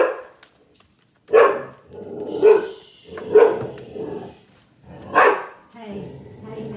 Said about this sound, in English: as soon as I do that, she starts barking